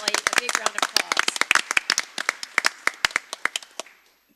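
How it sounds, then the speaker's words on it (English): Applause breaks out at a Bryan ISD school board meeting, a dense burst of clapping from the audience that thins into scattered individual claps and fades out, with voices talking underneath. "So please give Wixon Valley a big round of applause."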